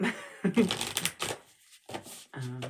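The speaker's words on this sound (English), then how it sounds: "So let's go ahead and do one more shuffle." Tarot cards are shuffled close up in quick riffling bursts with short pauses between, with light talk mixed in.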